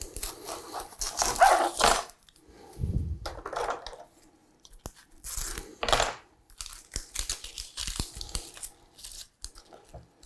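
A large onion is peeled by hand in a kitchen, its dry papery skin tearing and crinkling in close, irregular bursts, with quieter pauses between.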